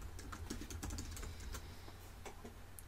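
Quiet, rapid keystrokes on a Mac keyboard as a password is typed, a run of soft clicks in an uneven rhythm over a faint room hum.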